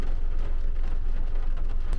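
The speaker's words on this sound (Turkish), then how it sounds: "aşırı derecede yağmurlu bir gün" Heavy rain pours steadily on a very rainy day, a dense, continuous hiss of drops with no pauses, no voices over it.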